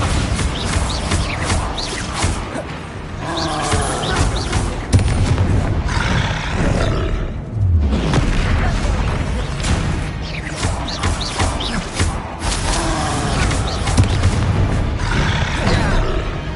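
Spell blasts from Hogwarts Legacy gameplay come through as loud, dense booming explosions and roaring crashes over a continuous game soundtrack, sustained for about sixteen seconds.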